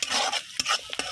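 Whole cardamom, cloves and cinnamon crackle and sizzle in hot oil while being stirred in a pan, a close, busy hiss broken by sharp spoon-and-pan clicks.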